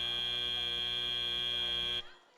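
A match-end buzzer at a FIRST Tech Challenge robotics competition blares as one loud, steady electronic tone for about two seconds, then cuts off abruptly into quiet.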